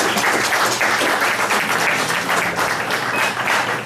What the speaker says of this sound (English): I know a majority of this tribal council will applaud it and do the same.